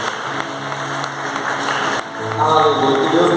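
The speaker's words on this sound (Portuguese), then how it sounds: "Dá um aplauso para Jesus essa noite." Congregation clapping in a church service: continuous applause from a crowd, growing louder toward the end, with a preacher's voice and background music underneath.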